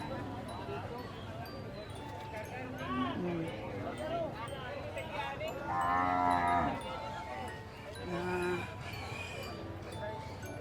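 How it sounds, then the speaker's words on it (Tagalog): Water buffalo at a livestock market low several times, with long deep moos standing out over crowd chatter and a voice talking throughout, plus faint hoof clatter in the background. "Ang kalabaw po na nabili ni Kabiyahing Nalon."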